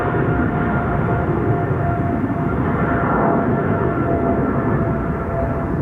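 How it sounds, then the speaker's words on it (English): Airbus A350 engines spool up for takeoff on the Polderbaan runway at Amsterdam Schiphol, a dense, continuous roar holding steady and loud throughout with no voices. "The A350 is also spooling up already."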